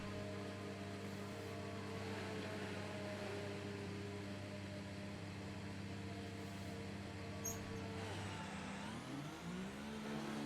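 A racing-game race car's engine hums steadily on the way onto the Spa Francorchamps track, a sustained mid-pitched drone that sweeps upward near the end as the engine revs.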